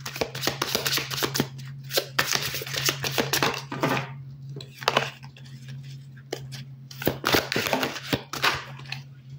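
Tarot cards shuffled for a general reading, a long run of quick riffling and slapping bursts with brief pauses between, close and fairly soft, with no talking.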